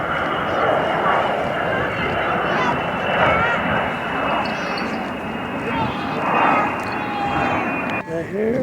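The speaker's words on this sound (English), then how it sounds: "Now here we are with the B-29, and it's been all refurbished." A refurbished Boeing B-29 bomber runs its engines in a steady, rumbling drone with a rough, pulsing texture, fairly loud, while indistinct voices murmur underneath.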